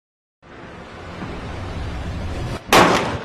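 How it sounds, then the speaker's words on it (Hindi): Diwali firecrackers set off outdoors: a rising rumble of crackling, then a sharp, loud burst near the end, with no talk. "पटाखा फोड़ रहे हैं।"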